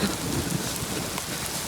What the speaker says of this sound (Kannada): ನೋಡಿ ಮಳೆ ಬರ್ತಾ ಇದೆ